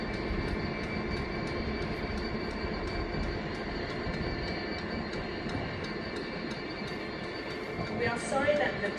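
A train rolls through Crewe station on the West Coast Main Line, a steady rumble of wheels with rhythmic clicks and faint squeal, a louder burst near the end, moderately distant.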